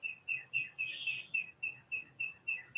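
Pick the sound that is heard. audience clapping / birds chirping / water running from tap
birds chirping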